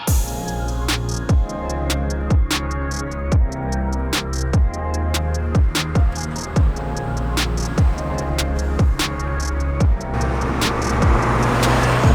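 A car cruises steadily along a road, its engine and tyre noise forming a loud continuous drone with a regular series of thumps as it rolls over joints in the surface, and no voices heard.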